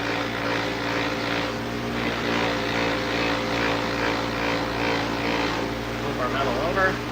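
Brass metal is worked against a spinning buffing wheel, giving a continuous, close mechanical drone and grinding hiss; someone talks over it.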